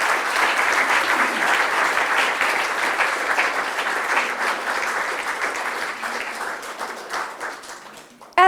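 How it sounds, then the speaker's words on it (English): An audience at a book awards evening applauds steadily for several seconds, a dense wash of clapping that stays loud, then thins slightly before ending. "A huge round of applause for all our shortlisted authors this evening."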